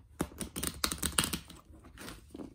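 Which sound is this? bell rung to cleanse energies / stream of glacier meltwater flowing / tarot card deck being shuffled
tarot card deck being shuffled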